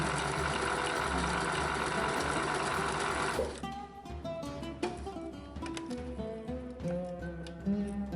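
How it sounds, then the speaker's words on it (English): A sewing machine stitches the layers of a fabric face mask in a fast, loud, continuous run that stops abruptly partway through, followed by quieter handling noises and faint clicks as pins are removed. "I'm removing the pins as I'm sewing towards them"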